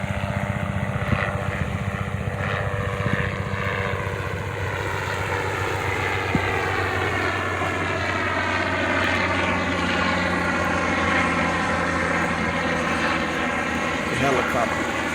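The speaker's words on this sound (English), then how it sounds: "The helicopter." A tour helicopter flies over a beach with a steady engine and rotor drone that slowly shifts in pitch as it passes, while someone talks over it.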